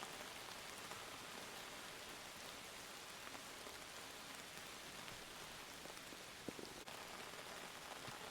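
Steady, dense rain falls in the survival crafting game Outbound, forming an even wash of patter that fills the whole stretch on its own, with no voices.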